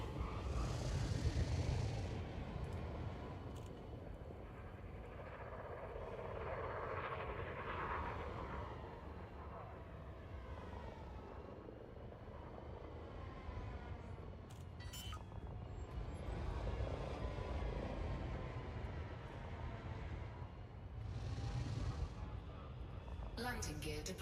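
Spacecraft engines roar in a video game landing, a broad sustained rumble that swells and eases over many seconds, with faint chimes and clicks on top and voices talking over it.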